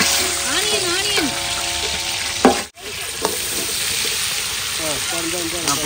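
Onions for biryani sizzle and fry in a pot while a spoon stirs and scrapes against the metal, with a brief clatter midway; voices chatter over the cooking.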